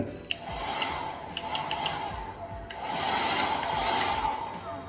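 Electric hair dryer running in a hotel bathroom, a steady, close, continuous whoosh of blown air with a faint motor hum, holding at constant loudness with a few small clicks and knocks over it.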